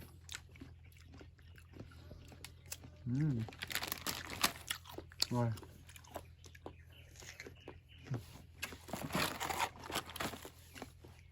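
Crunchy peanut brittle candy bought at a village annual fair is bitten and chewed close up, with scattered sharp crunches and crackles, and a person talks intermittently over the eating.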